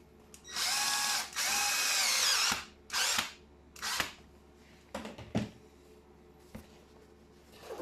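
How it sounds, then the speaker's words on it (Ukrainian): A power screwdriver drives screws during repair of a Stark HM-1350 PRO drill-mixer, with two long whirring bursts followed by shorter spurts and small clicks of handling, close and clear. "прикручуємо поки на два гвинти"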